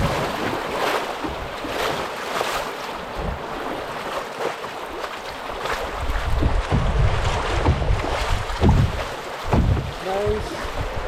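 A canoe runs a rapid on the Mississagi River, with rushing whitewater and wind buffeting the microphone, and water slaps and paddle strokes growing louder toward the end.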